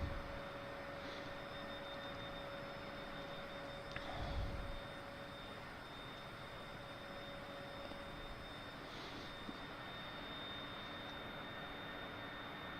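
A Cessna Citation CJ4 jet on approach to land at Harrisburg in Microsoft Flight Simulator, giving a steady, fairly quiet cockpit engine drone with faint brief clicks, and no talking.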